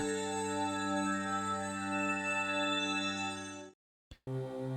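A phone rings in the visual novel game Higurashi When They Cry, a sustained electronic tone that holds steadily for several seconds, cuts off abruptly, and then briefly resumes.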